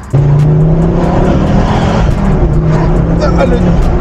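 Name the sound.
Ford Focus RS Mk2 Volvo five-cylinder engine revving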